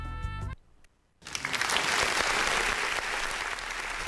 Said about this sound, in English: Thank you very much for that loud applause.